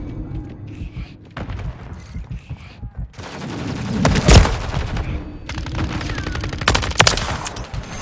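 Automatic weapons firing in Call of Duty Modern Warfare 3 multiplayer on the Rust map, sustained bursts of rapid shots with a loud crack midway and mechanical clatter between volleys.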